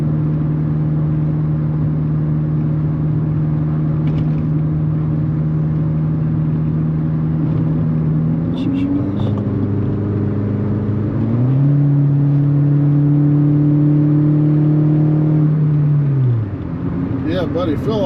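A small 5-horsepower engine drones loudly and steadily, its pitch stepping up as it revs, then dropping back near the end.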